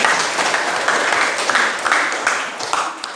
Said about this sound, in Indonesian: Ya, aplaus.